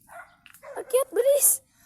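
A dog gives a few quick, yippy barks and whimpers up close, brief and bright, with a voice mixed in.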